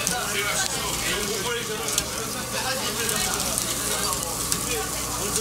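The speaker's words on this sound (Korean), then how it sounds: "기름이 골고루 묻을 수 있게 버무리는 식으로 굽는 거예요" Oil-coated meat grilling at a Korean restaurant gives off a dense, continuous sizzle and crackle close by, steady throughout with small spattering pops.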